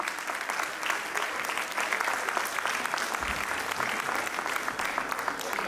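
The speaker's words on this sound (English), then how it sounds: "Let's give a big, big round of applause and a standing ovation to them." A fashion show audience at the Glam Show 2023 Fashionista applauds in a standing ovation, with steady, dense clapping from a large crowd that holds throughout, fairly near and loud.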